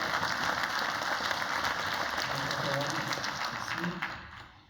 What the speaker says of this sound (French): on applaudit bien fort M. Côté pour votre présentation.